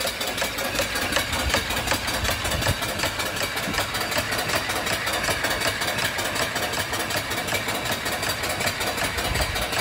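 A small off-grid live steam mill engine with machined cast parts runs steadily beside its boiler and exhaust stack, giving a continuous mechanical churn with a rapid, even beat that stays at a constant level throughout, with no talk.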